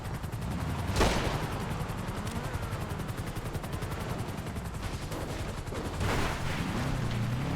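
Gunfire in GTA V, sustained rapid automatic shooting over a dense rumble with two louder bursts, continuous and fairly close.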